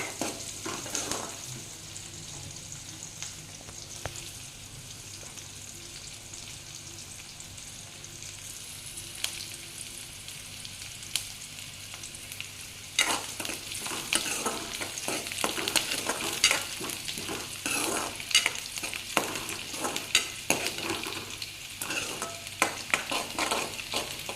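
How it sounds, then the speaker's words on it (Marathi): Chopped onion frying in a pan with cumin seeds, a steady close sizzle that grows louder and busier partway through as a spoon stirs and scrapes, with scattered clicks of the utensil against the pan. "आता यामध्ये मी कांदा घालत आहे कांदा मी दोन मिनिट परतून घेणार आहे"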